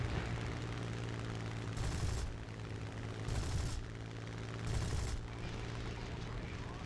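Cannon fire from an aircraft in the War Thunder video game rattles out in three short bursts, each about half a second long, over a constant droning engine.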